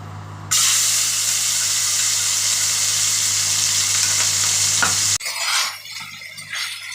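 Small fish fry in hot oil in a wok with a loud, steady sizzle and hiss that continues unbroken, then cuts off abruptly, leaving quieter clattering and room noise.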